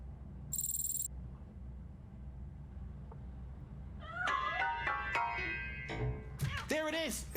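A cat meowing in the video game RoboCop: Rogue City, several short high mews in quick succession over a steady low background hum, fairly close and clear.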